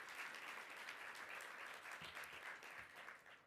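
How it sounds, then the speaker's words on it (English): An audience at the CES 2020 U.S. Department of Transportation keynote gives a sustained round of applause, dense clapping that stays even throughout before easing slightly at the end, heard from a distance. "we want to give Gary a tremendous round of applause"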